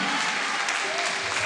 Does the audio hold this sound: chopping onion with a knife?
no